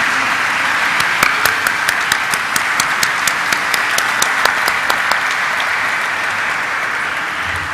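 A crowd at a stock exchange listing ceremony for Mankind Pharma Limited applauds steadily, with dense clapping and a few sharper close claps standing out through the middle before the applause slowly thins.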